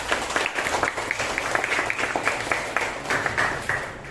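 A classroom of students claps together in a steady, rhythmic patterned cheer, loud and close throughout, with faint voices mixed in.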